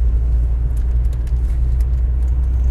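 A Ford Sierra Cosworth engine runs at a steady low rumble, close and continuous, with no talking.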